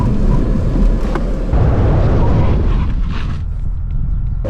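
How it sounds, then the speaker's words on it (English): A 20-year-old BMW brakes hard from about 30, its loud road and engine roar holding steady, then dropping away as the car slows. "get it up to about 30 or so, and then we're gonna slam on the brakes"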